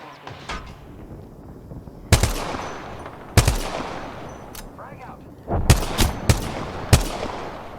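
Sharp single-fire G7 rifle shots in Apex Legends, about seven spaced cracks with ringing decay over a busy game background; no talking.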